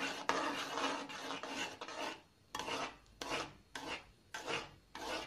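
Spoon scraping and stirring cornflour halwa with cashews and ghee in a pan, a series of short, close rasping strokes with brief pauses in between, fairly quiet.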